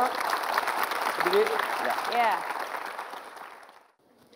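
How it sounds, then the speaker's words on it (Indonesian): Applause from a crowd, steady clapping under a few spoken words, fading out near the end. "Boleh tepuk tangan dulu."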